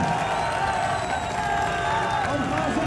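A large crowd at a political rally applauds and cheers, a dense, steady wash of clapping and voices at a distance that fills the whole moment.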